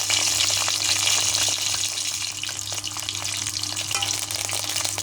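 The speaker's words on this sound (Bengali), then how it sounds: "মরিচগুলো হালকা লাল করে ভেজে নেবো" Green chilies and bay leaves fry in hot oil with a dense, continuous crackling sizzle, close and fairly loud, with occasional stirring noises.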